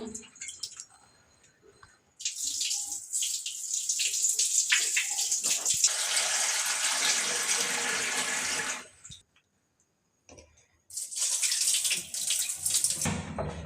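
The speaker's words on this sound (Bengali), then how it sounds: "এখন বাগনা আলুগুলো ধুয়ে নেবে" Water runs from a tap in a long steady stream, with sloshing and rinsing sounds as cut potatoes are washed; it pauses briefly before running again.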